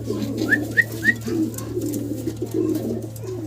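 Bombay pigeons coo in a short series of soft, rising calls, close by over a steady low hum, then fainter murmuring.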